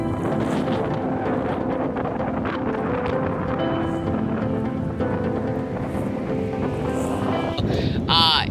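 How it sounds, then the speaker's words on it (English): Gusty wind roars steadily across the microphone while sailing a boat under a full moon, with water rushing beneath; a loud, continuous blustery wash fills the whole stretch. "It is very windy out."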